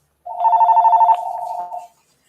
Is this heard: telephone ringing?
yes